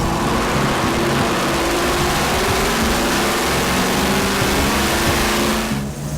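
Supercharged 5.3-liter small-blower COPO Camaro V8 running on a dyno in a powertrain test cell, a loud steady engine roar with a constant rumble holding throughout before a slight drop at the end.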